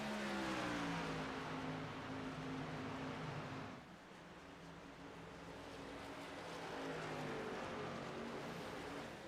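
Race trucks roar around a track at the finish of a GLSR truck race, a loud, steady engine drone that dips briefly and then swells again.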